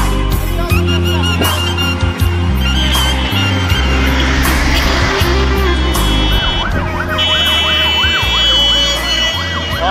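A loud ambulance siren wails close by on a Kabul street, its rising and falling tone sweeping steadily over heavy street noise and traffic rumble.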